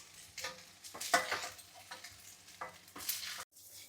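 Butter melting in a hot pan with a bright, crackling sizzle, stirred with a few utensil scrapes, close and steady before cutting off abruptly.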